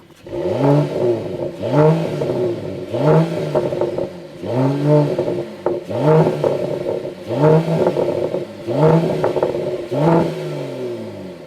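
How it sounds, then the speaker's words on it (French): A 2023 Mercedes-AMG CLS53 engine revs hard in repeated bursts, roughly once a second, each rising and falling pitch sweep loud and close, with no talking. "je vais vous faire écouter la sonorité de la voiture"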